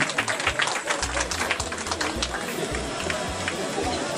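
A crowd claps and cheers for General Zelambuma at a public gathering, dense steady applause running throughout with a babble of voices underneath.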